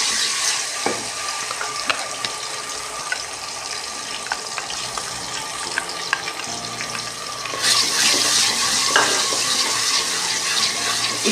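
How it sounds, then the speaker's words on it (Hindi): Chopped onions, turned translucent, sizzle steadily with garlic-ginger paste in a hot pan, a loud continuous crackle with small pops that swells slightly louder partway through as the mixture is stirred. "इसको 2 मिनट तक से हमने इसकी भुनाई करनी है, लहसुन अदरक और प्याज की"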